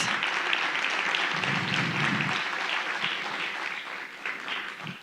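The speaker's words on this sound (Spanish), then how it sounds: "Dale fuerte el aplauso a Dios." Loud, sustained applause from a church congregation during a sermon, a dense continuous wash of clapping lasting throughout with only slight dips in level.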